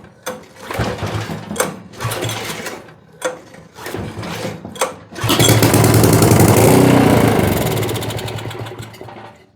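A small gasoline tiller engine pulled several times with choke set midway, giving short sputtering bursts before it catches and runs at a loud, steady rattling idle, close by with no talking.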